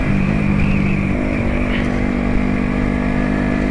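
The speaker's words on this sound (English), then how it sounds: "she's got a pair of slash cut exhausts fitted, which means it's nice and loud." A motorcycle fitted with slash-cut exhausts idles loudly and steadily up close, a deep continuous rumble with a constant low drone and no speech.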